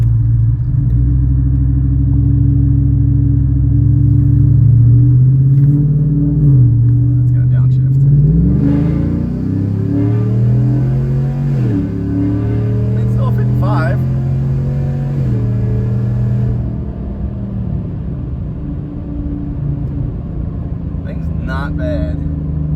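A 2019 Chevrolet Silverado truck engine drones loudly and steadily, its pitch climbing and then dropping sharply as the transmission shifts up through gears under continuous acceleration, with a lower rumble as it settles.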